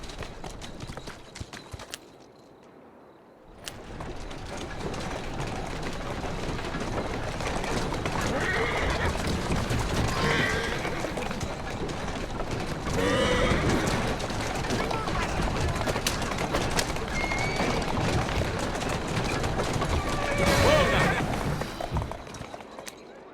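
Horse in Assassin's Creed Syndicate, set in Victorian London, neighs and clops its hooves on the street amid a busy ambient game soundscape, with the rider talking softly over it.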